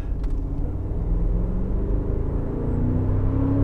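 Inside a 2023 Range Rover Sport P530 V8 on the move, a steady low engine rumble and road noise hold throughout, the engine note swelling slightly toward the end without any spoken voice.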